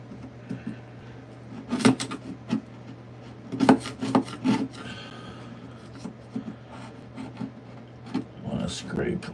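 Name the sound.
scraping wood floor plank with the grain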